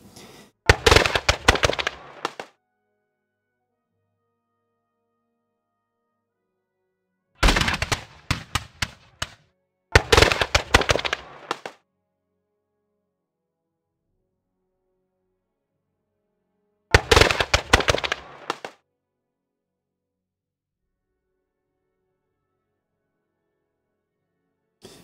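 Musket volleys from the Horse and Musket Frederick the Great strategy game crackle in four separate bursts of rapid, overlapping shots, each followed by silence.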